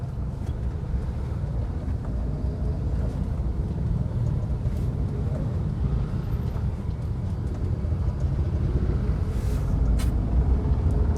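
A car engine drones steadily in first gear at moderate revs from inside the cabin, a continuous low rumble mixed with road and wind noise, slowly building slightly louder.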